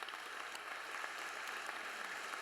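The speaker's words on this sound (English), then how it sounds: "Please give them a round of applause." Quiet, distant round of applause for safety services at the Pro Football Hall of Fame 2022 event, a soft even patter of clapping from a crowd, heard faint and far off.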